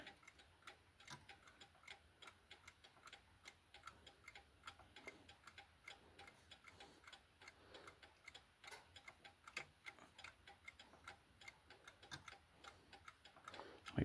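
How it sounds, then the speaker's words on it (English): A President 30 day wall clock ticks steadily in a regular rhythm, faint and close in a quiet room, with no talking. "Make sure I hear that every click so I'm not rushing the clock."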